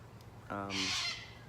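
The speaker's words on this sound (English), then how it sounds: "bloody noisy birds" Noisy birds calling outside let out a single harsh, drawn-out squawk that rises suddenly and holds for nearly a second, moderately loud over a low background hum.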